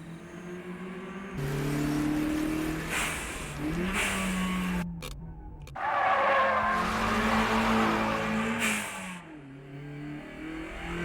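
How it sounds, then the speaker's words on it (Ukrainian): A car drifts sideways through a corner at low speed, with engine revving and tire squeal swelling in two long bursts separated by a brief gap, fairly loud and close, with no talking. "Я буду пробувати боковий розворот у повороті на малій швидкості"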